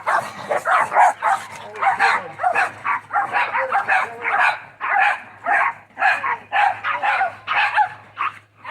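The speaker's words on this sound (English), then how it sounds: "my dog's got a bark at him" Dog barking at a landlord walking past outside, a rapid run of sharp repeated barks and yips, loud and close, continuing for several seconds with little pause.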